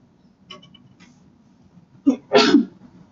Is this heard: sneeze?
yes